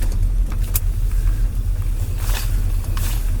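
Steady low engine rumble and road noise from inside a moving 1972 GMC Sierra Grande pickup, with faint rattles and no voices.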